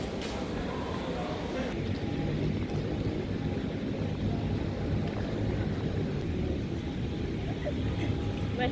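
An airliner's engines rumble steadily at an airport in Madagascar before a flight to Addis Ababa, a constant broad roar with faint voices underneath.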